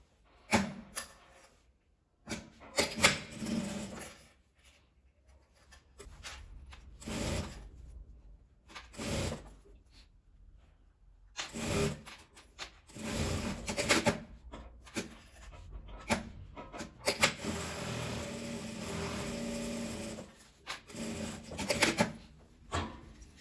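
A sewing machine stitching the seam of a patchwork pouch runs in short, quiet bursts separated by pauses, with soft rubbing and handling of fabric between runs.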